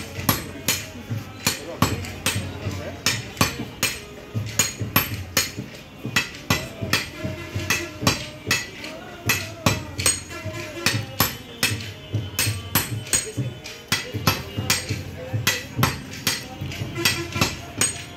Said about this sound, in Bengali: দেখতে পাচ্ছেন গরম লোহাকে এভাবে পিটিয়ে শাবল